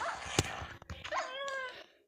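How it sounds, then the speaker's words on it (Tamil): A wolf (dog) in the Minecraft video game gives a sharp yip followed by whimpering, whiny calls. The sounds are close and fairly loud, with a few game noises around them. "வாங்க நாய் போட்டு தள்ளிடணும்"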